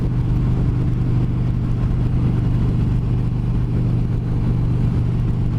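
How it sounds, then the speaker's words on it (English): A motorcycle engine drones steadily while being ridden on the road, a loud, constant low rumble with a fluttering pulse and no clear change in revs. "Love the sound of that motor"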